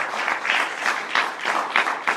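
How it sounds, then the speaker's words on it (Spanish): A church congregation claps together in a strong, rhythmic beat, loud, near pulses of many hands repeating at a brisk, regular pace. "Démosle un fuerte aplauso a nuestro Dios, hermano."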